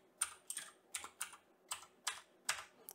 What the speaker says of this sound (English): Now we have to type the name of the repository.